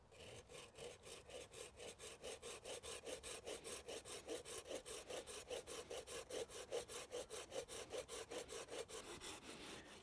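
A hand saw cuts through wood in a steady, fast back-and-forth rhythm, each stroke a rasping scrape, continuing evenly and close up with no talking.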